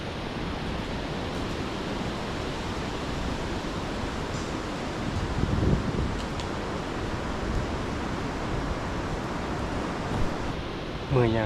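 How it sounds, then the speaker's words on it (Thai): Continuous wind noise buffeting the microphone, steady and full, with a brief louder rumble midway and a faint voice near the end. "บริเวณเสียงยังเลยมันเสียงลม"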